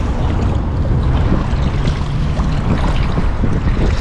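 Strong wind gusts roar across open sea around a small fishing boat, a loud continuous rushing with buffeting against the microphone and water noise beneath, no voices.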